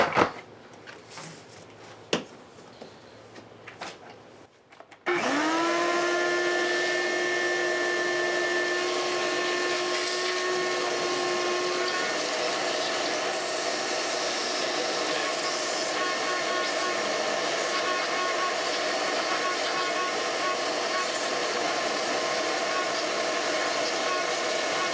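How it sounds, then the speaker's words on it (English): A car vacuum cleaner switches on after a few seconds of light knocks and handling noises, then runs with a loud, steady, high whine close by for the rest of the time. "So it's going to be a little noisy with the vacuum"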